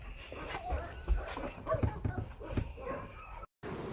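A rescued dog with a bleeding, injured leg whimpers softly, letting out short whines and pants in brief bursts, close by and fairly faint, while people talk quietly nearby.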